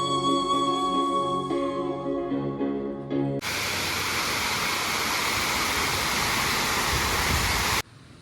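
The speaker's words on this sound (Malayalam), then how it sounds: "അതിൻ്റെ വെള്ളച്ചാട്ടത്തിൻ്റെ അടിപൊളി മനോഹരമായ ഒരു വീഡിയോ ആണെന്ന്" A rain-season waterfall at South Malampuzha roars as a loud, steady broadband rush of falling water, starting abruptly after a few seconds of tonal sound and running continuously until it cuts off near the end.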